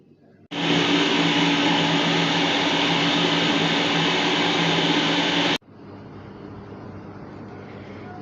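Electric kitchen blender grinding ginger and garlic with a little added oil into paste, a loud steady whirring roar that starts abruptly, runs about five seconds and cuts off, leaving a quieter background hum.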